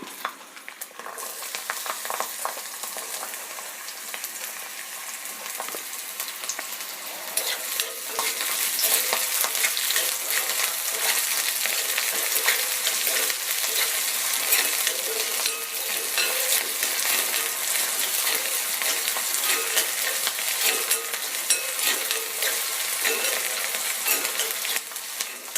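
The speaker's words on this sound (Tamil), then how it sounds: "அடுத்தது நம்ம பூண்டை போட்டு வதக்கி எடுத்துக்கலாம். அதோட கூட வெங்காயமும் போட்டுக்கலாம்." Garlic and onion sautéing in a pan for pirandai kozhambu, a steady, bright sizzle that runs unbroken for the whole stretch, with faint scraping and clinks of stirring.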